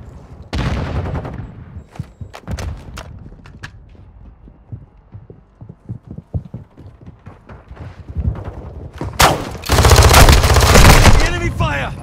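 Enemy gunfire in Call of Duty: Modern Warfare II, with rapid automatic bursts and scattered single shots that build into a loud, dense barrage near the end.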